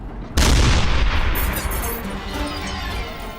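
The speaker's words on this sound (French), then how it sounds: "la qualité de nos canons fait toute la différence" A tank cannon fires one sudden, loud, deep boom that rolls out into a long rumbling decay.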